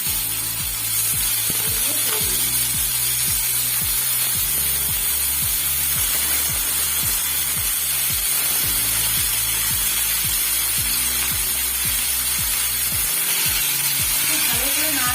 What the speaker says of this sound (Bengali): 5 ফোড়নগুলো কিন্তু কড়া যেহেতু গরম আছে, আমার তেলও গরম আছে, তো 5 ফোড়নগুলো দিয়ে দিলাম।